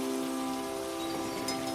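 Heavy rain pours steadily in an animated story, a constant hiss of falling water mixed with sustained tonal background music, with no voices.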